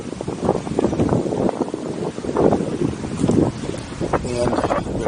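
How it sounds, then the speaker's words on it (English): Gusty wind buffeting a microphone at an RV park in Vero Beach, Florida, a loud continuous rumbling roar that swells and eases. "again, sorry about the wind"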